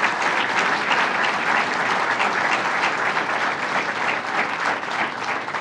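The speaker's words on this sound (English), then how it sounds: "let's give them another round of applause for what they did." Dense, sustained applause from a large audience at a state budget announcement event, loud and even throughout with no voices standing out.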